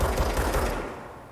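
A quick burst of rapid gunfire in the video game Control, loud and close, fading out over about a second.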